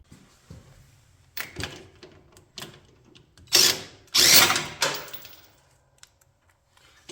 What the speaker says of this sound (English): First thing we're going to do is go ahead and get that fan off the top there, just held on by that nut.